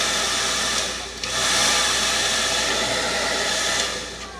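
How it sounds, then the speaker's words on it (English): A hair dryer on its cool setting blows steadily with a broad, even whoosh, briefly dipping near the one-second mark before resuming at full strength, used to dry glue on a wig. "if you want it to dry, get your trusty hair dryer"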